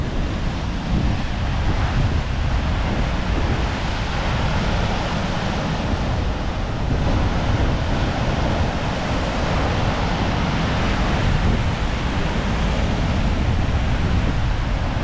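Rough sea at Cap d'Agde, with a steady roar of breaking waves mixed with strong wind buffeting the microphone. The noise is dense and continuous, with no voices.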